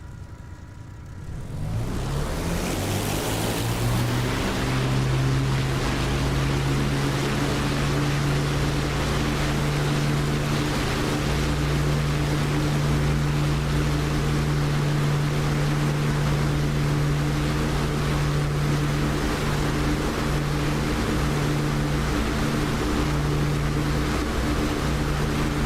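An aircraft engine throttles up in the DCS flight simulator game, rising from near quiet within the first couple of seconds into a loud, steady roar that holds unbroken for the rest of the clip.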